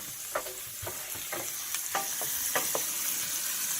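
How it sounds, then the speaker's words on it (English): Garlic frying in slightly cooled oil in a pan while being stirred, a steady soft sizzle under a series of scraping utensil strokes, close and moderate in volume, no voices. "I waited until the oil cooled a little bit before adding the garlic"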